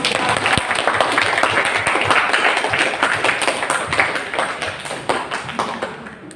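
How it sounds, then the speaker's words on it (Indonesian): A classroom of people clapping together, a dense patter of hand claps that holds steady for several seconds, then thins out and fades. "tepuk tangan"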